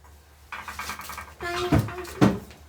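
A metal baking tray of Ramadan pide is slid into a home oven with clanking, rattling metallic knocks and a couple of sharper bangs, close and fairly loud, with no talking.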